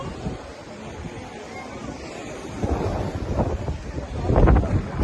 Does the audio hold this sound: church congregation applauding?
no